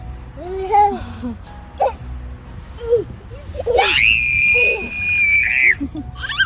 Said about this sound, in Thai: มันต้องกรี๊ดขนาดนี้เลยเหรอ